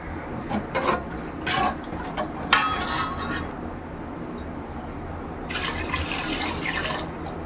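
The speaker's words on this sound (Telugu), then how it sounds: "ఇప్పుడు దీంట్లో మనం వాటర్ వేస్తున్నాను" Water pours into a pot of rice being cooked for palav in several splashing bursts with a few clinks of the vessel. The pours are close, and quieter gaps separate them.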